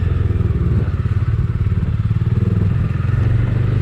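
A Bajaj Dominar 250 BS6 motorcycle is ridden, its engine producing a loud, steady, rhythmic low thrum that holds an even pace with a constant roar behind it.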